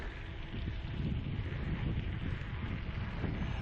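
Steady south wind buffeting a microphone outdoors while cycling, a continuous low rumbling roar with no voices.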